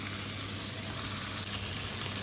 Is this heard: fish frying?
yes